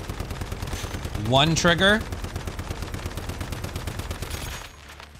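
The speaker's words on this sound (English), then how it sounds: "So let's go ahead and just shoot the test dummy with the gas mask on." Rapid video-game gunfire from Once Human hits a test dummy. Quick shots repeat steadily and loudly for most of the clip, someone speaks briefly over them partway through, and the firing stops just before the end.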